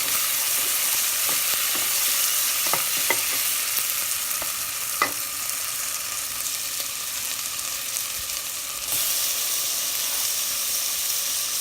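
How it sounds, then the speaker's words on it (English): Onions sauté with a teaspoon of ginger in a pan, a continuous loud sizzle with scattered stirring clicks and scrapes throughout. No voices are heard. "to my onions which are sauteing just a bit, I've added a teaspoon of ginger"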